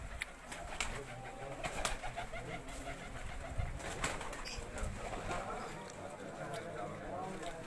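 Pigeons coo at the Laal Haveli pigeon club, making soft, repeated low calls amid wing flutters and general yard noise, with voices talking in the background.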